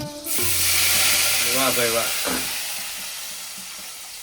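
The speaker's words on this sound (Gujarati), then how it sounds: "તો ફાઇનલી જો ભાઈ કઢીનો વઘાર કરે હવે." Kadhi tempering (vaghar) bursts into a loud sizzle as it hits the hot pot, a broad hiss that swells quickly and then slowly fades, with a brief spoken exclamation over it.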